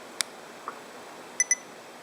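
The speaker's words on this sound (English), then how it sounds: "it makes a double beep. Not real loud" A JVC Adixxion GC-XA1 action camera gives a quick double beep as it stops recording, two short, quiet high-pitched tones in close succession over faint background hiss.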